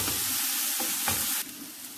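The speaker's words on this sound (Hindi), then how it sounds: "एक बड़ी प्याज कटी हुई वो डाल देंगे। इसको सौते करेंगे" Chopped onion, one large onion's worth, sautés in a pan with a steady, close sizzle and occasional stirring scrapes. The sizzle softens and drops a little toward the end, and no one talks.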